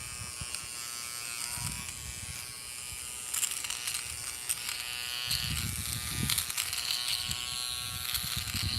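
An electric nose hair trimmer buzzes continuously up close, a steady high-pitched whine that shifts in tone as it works, with no talk.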